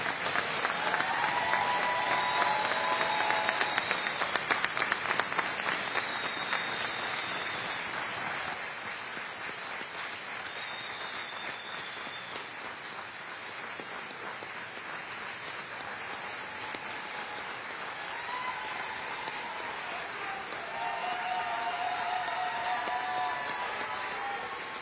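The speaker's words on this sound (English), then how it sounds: "Let's give them a round of applause." An audience applauds graduating fire department recruits at a graduation ceremony, sustained clapping that swells early, eases slightly in the middle and rises again near the end, with a few voices and cheers mixed in.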